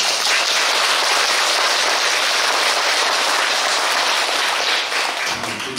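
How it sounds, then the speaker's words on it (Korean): A temple abbot leads a crowd in clapping, and dense, sustained applause from many hands fills the space evenly from start to finish. "주지 스님께서 자신이 있으셔갖고 먼저 박수를 치시네요"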